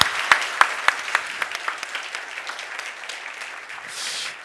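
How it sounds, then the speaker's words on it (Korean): Church congregation applause welcoming a pastor's sermon, starting with a few sharp, separate claps and thickening into steadier clapping that fades off toward the end. "임채영 목사님 설교 큰 박수로 맞아주시죠."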